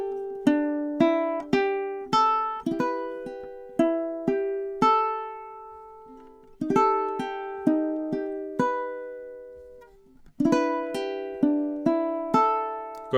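Fingerpicked ukulele plays a gentle lullaby phrase, clear plucked notes ringing out in a steady, unhurried rhythm across several bars, close and alone with no voices.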